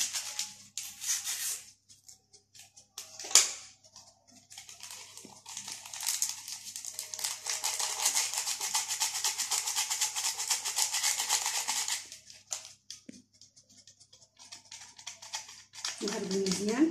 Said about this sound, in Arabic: غنضيف صاشي ديال خميرة الحلوة حتى هي غادي نغرب ليها